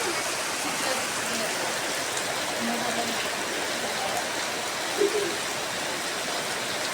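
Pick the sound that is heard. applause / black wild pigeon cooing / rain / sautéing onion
rain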